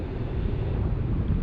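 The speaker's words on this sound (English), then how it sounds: "Man, this wind is murder," Strong wind buffets the microphone with a steady, loud low roar while fishing for smallmouth bass from a boat on open water, continuous for the whole stretch with no voices.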